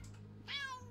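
A cat meows once in the House Flipper video game, a single clear drawn-out meow standing out over a steady low in-game background hum.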